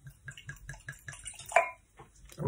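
Wine poured from a bottle, the bottle's shape giving a rhythmic glugging: about seven evenly spaced gulps, then a brighter splash and a final glug, close and quiet with no talking.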